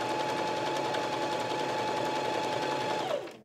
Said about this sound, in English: This is actually going to take two stitches forward and then one stitch back.